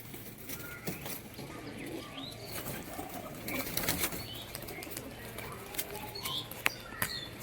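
Rajshahi Giribaj pigeons perform the kingfisher-style aerial display, their wings giving quick, intermittent flapping claps amid busy outdoor noise and scattered bird calls, fairly close.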